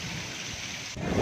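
Sudden rain pours in Gujranwala, a steady close hiss of falling water that runs on without a break and swells slightly at the end, with no voices.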